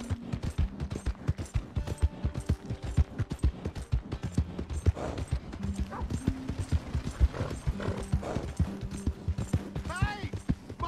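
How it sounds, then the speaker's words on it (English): Horse hooves clip-clopping in a steady rhythmic gait in the Western video game Red Dead Redemption II, close and prominent, with a horse's whinny near the end and a voice briefly calling out over it. "Hey! My horse!"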